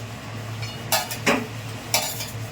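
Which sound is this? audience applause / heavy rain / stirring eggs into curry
stirring eggs into curry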